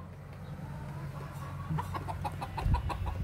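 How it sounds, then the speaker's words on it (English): Several chickens that live in a house cluck and murmur nearby as they come out, soft and intermittent, building into a busier burst of clucking near the end over a low steady background hum. "here's the other chickens that live in the house. They've just come out."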